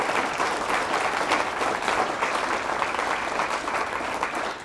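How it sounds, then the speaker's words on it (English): Audience at a university all-hands meeting applauds loudly and continuously, a thick wash of clapping that holds steady and tapers slightly at the end. "A round of applause for Dr. Newkirk."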